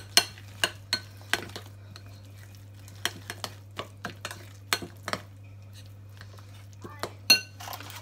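Lotus Biscoff spread is mixed in a bowl with a utensil, producing scattered clinks and taps against the dish in an otherwise quiet kitchen.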